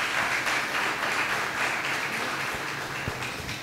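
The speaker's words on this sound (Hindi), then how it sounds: "तालियां बजा के बताएं मेरे साथ हैं।" A congregation claps during a Hindi-language church sermon: faint, steady applause from a group in a hall, continuing throughout with a few low thumps.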